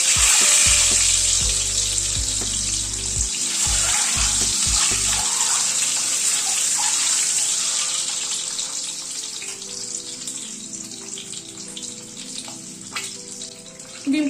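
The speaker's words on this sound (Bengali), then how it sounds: "ডিমগুলো আগে ভেজে তুলে নিচ্ছি।" Eggs fry in hot oil and ghee in a pan, giving a steady bright sizzle and crackle. A low, steady hum sits under it at the start. The sizzle grows a little softer toward the end.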